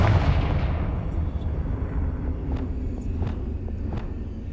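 A Confringo blasting spell bursts in Hogwarts Legacy, a loud, rumbling explosion at the start that rolls into a dense, sustained roar with scattered small crackles and pops trailing off.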